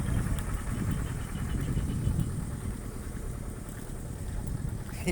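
A Kubota ET 14-horsepower two-cylinder engine pumps water into a rice field, giving a steady, continuous mechanical drone at moderate loudness with no voices.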